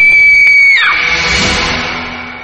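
A woman's loud, piercing scream in a horror radio drama, one sustained cry that rises sharply, then breaks into a wavering wail and slowly fades over about two seconds.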